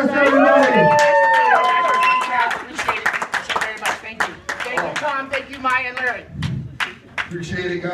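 Comedy club crowd clapping for comedian Preston Lacy, a dense run of rapid claps from a nearby audience mixed with cheers and loud voices talking over it.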